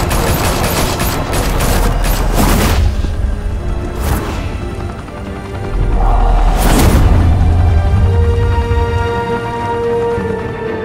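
Heavy gunfire erupts in Telltale's Batman game, a loud sustained fusillade of shots with sharp bursts and crashing impacts, dense and close throughout with no talk over it.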